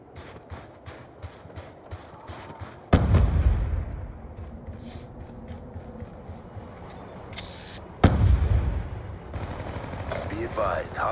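Rapid automatic gunfire comes in loud, fast-firing bursts in the Black Ops 2 video game, with heavy booming blasts and echoing battle noise between them.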